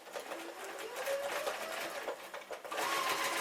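A sewing machine stitches steadily through roughly ten layers of thick denim, a continuous close mechanical whirr with slight pitch changes and a brief pause near the end.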